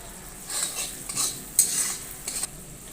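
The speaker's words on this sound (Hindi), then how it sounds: "सारी चीज़ों को अच्छे से मिक्स कर लेंगे।" Tomatoes and spices with turmeric, red chilli and cumin powder stirred in a pan for chana dal fry, giving soft, scraping spoon strokes in uneven bursts, fairly quiet and close.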